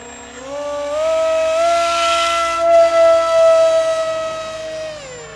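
Radio-controlled model plane with a Brother Hobby Avenger electric motor in flight, a loud high whine that rises, holds a steady pitch for several seconds, wavers briefly, then drops away at the end.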